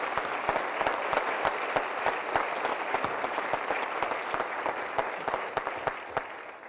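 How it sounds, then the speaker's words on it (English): Sustained applause from an audience at a Veterans Day ceremony honoring county employees who served in the military, steady dense clapping with scattered sharper claps, no talking. "I think we owe him one more round of applause"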